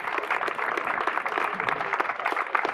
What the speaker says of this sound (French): on peut applaudir déjà toutes les personnes qui sont là aujourd'hui.